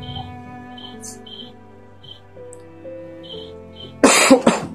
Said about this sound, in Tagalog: May ubo pa tayo tol